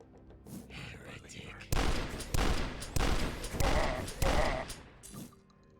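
Shotgun blasts in the retro shooter DUSK, about five loud booming shots spaced roughly half a second to a second apart, with faint background game sounds and murmured talk before the firing starts.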